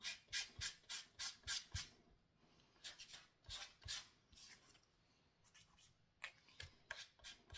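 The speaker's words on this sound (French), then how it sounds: "vous passez la lime sur le côté et ça va la découper" A nail file rasps along the edge of leftover card-making paper to tear it to shape, in quick rhythmic strokes close by, pausing briefly midway before the scraping resumes.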